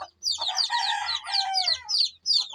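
Chickens cluck and a rooster crows, several overlapping calls in steady bursts, fairly close, with short pauses between, as hens receive a Ranikhet disease vaccine dose.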